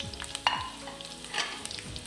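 Small onions sauté in coconut oil in a pan, a soft sizzle broken by a few scraping stirs of a spatula, close and fairly quiet, with no voices.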